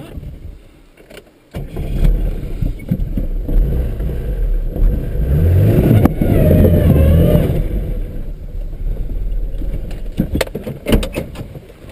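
A car engine fitted with wheel chains revs hard while the car climbs out of a pit, a loud sustained roar that rises and strains for several seconds before easing, with chain clanks and rattles around it.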